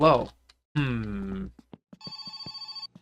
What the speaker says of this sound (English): Oh, who's calling me?